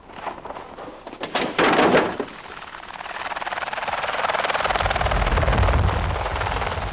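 A helicopter used to ferry gear and canoes during the 1989 Raid Gauloises in New Zealand, a few thuds and knocks early on, then the rotor chop building to a steady, close drone.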